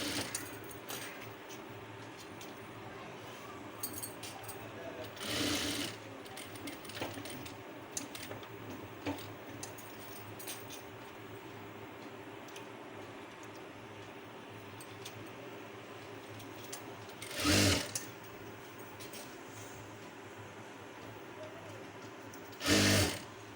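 Domestic sewing machine stitching piping onto a star-neck blouse, a steady low mechanical whir with light ticking through most of the stretch and a few short louder bursts of rapid stitching near the start, middle and end.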